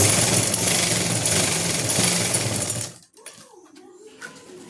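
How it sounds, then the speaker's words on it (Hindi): A sewing machine stitches elastic onto a salwar, running in a loud, steady whir for about three seconds before stopping abruptly, leaving only faint handling noises. "लास्टिक को हल्का सा खींचना है, ये देखो इस तरह से आपको सिलाई लगानी है"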